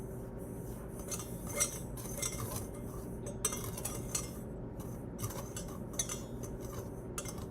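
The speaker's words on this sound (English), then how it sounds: "And then stir together until even" A utensil stirs a dry baking mixture in a bowl with steady scraping and soft clinks against the sides, close and fairly quiet.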